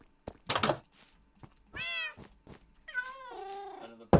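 A cat in Minecraft gives two clear, close meows, a short one and then a longer falling one, between soft thumps in a quiet room.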